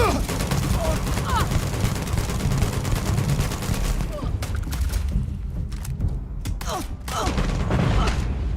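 Sustained automatic gunfire in the Starfield space RPG, a dense loud barrage of rapid shots that thins into scattered bursts in the second half, with game voices mixed in.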